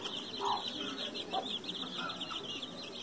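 Hens in a rural henhouse cluck in short, scattered calls over a steady background of insect-like buzzing, with no talk.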